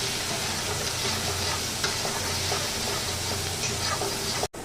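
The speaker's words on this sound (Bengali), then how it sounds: "এক টেবিল চামচ আদা বাটা আর এক টেবিল চামচ রসুন বাটা দিয়ে এটাকে একটু ভালো করে কষিয়ে নেব" Ginger and garlic paste sizzling steadily in hot oil in a pan, a continuous close frying hiss with occasional stirring scrapes, and a brief dropout near the end.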